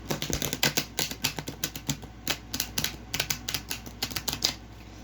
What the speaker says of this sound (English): So let's shuffle this brand new deck